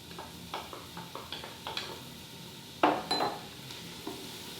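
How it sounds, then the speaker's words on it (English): Onions and green pepper sautéing in olive oil in an Instant Pot are stirred with a utensil, producing a series of close scrapes and clinks against the pot over a faint sizzle. "We're gonna give this a great stir, and we're gonna let this saute down for about another 5 to 7 minutes"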